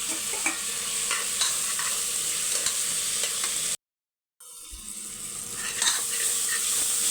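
Tomatoes and onions sauté in a salted pan with a steady, close sizzle and stirring scrapes that drop into a brief silent gap midway before the frying resumes.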